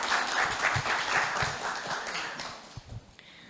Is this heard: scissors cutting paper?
no